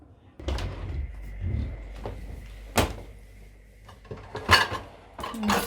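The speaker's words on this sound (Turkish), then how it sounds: "Direkt bu şekilde koyacağım fırına." A dish goes into a home oven, with clattering cookware and the thud of the oven door, several knocks and bangs spread unevenly over a few seconds. A voice talks faintly in the background.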